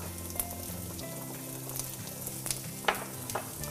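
Mustard seeds popping and frying in hot oil in a pan over medium heat, a steady close sizzle with scattered sharp little pops and crackles throughout.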